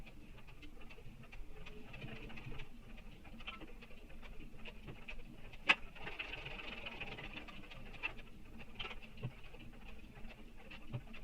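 A sewing machine back stitching on a backpack strap for reinforcement, a faint, steady, close patter of rapid stitches that continues throughout with a few sharper clicks.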